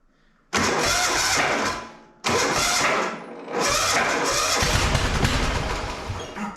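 A riding lawn mower engine with a weak starter motor cranks, falters and catches, loud and close, with a brief cutout before it restarts and settles into a rough, steady run.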